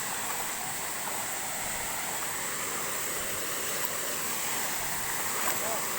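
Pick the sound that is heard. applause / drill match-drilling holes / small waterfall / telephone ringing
small waterfall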